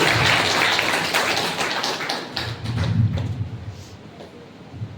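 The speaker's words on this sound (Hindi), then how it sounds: "दिखाओ एक बार जबरदस्त ताली बजा" Seminar audience in a hall in Banda breaks into dense, loud applause that swells and then gradually thins out, with a voice briefly audible over it.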